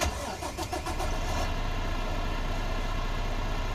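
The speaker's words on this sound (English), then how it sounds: "I'll fire up the truck from out here." A truck engine cranks and catches in American Truck Simulator, a brand new motor settling into a steady, loud, healthy idle rumble after a brief starter churn.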